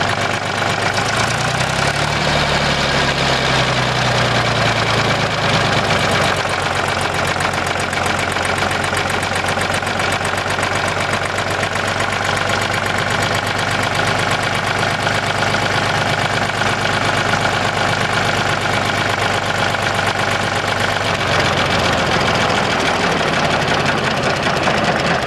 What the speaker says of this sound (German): Ja, hören wir noch mal ein bisschen den Trecker.